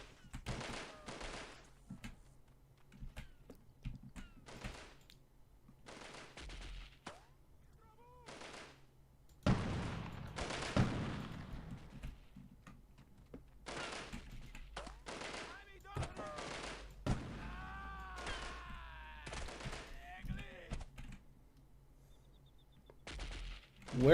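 Repeated bursts of gunfire in the 1998 video game Delta Force, sharp rapid volleys and single shots spread across the clip, some louder and nearer than others, with a voice talking in between.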